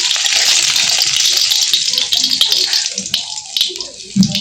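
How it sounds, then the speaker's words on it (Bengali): Pieces of tilapia fish frying in hot oil in a Bengali home kitchen give a steady, close sizzle that eases off partway through as the fish is lifted out, with someone talking over it. "এই যে মাছ ভাজা হয়ে গেছে"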